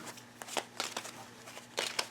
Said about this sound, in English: I wonder if I can shuffle. This deck is so small